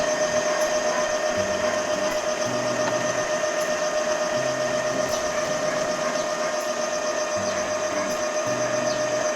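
An Epson L3110 inkjet printer's pump whirs continuously at moderate volume, drawing ink from the tanks through a hose, with a low pulsing pattern that repeats every few seconds.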